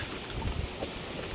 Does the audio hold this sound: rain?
yes